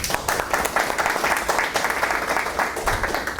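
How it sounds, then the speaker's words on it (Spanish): A seated audience at a doctoral thesis talk claps for the guest speaker Angélica, a dense, even burst of applause close and fairly loud throughout. "Un aplauso para Angélica."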